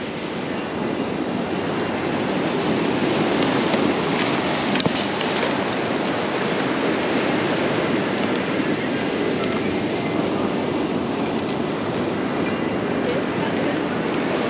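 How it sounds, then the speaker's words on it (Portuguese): A steady, heavy roar of rough surf crashing continuously at a beach at Canto do Poá, loud and enveloping with no breaks, like churning waves pounding a shore. "Mas o mar tá bem agitadão."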